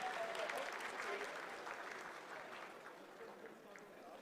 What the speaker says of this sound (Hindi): आप तालियों के गड़गड़ाहट से सुन सकते हैं कि हम लोगों ने तीसरे चरण को भी बहुत ही सफलतापूर्वक हासिल